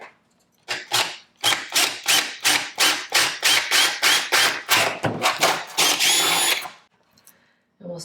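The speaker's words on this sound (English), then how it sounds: "We're gonna drill them 3/8," A power drill bores 3/8-inch holes through a forged carbon ram air hood in a rapid run of about fifteen short, loud bursts, ending in one longer sustained whine as the bit breaks through, then silence.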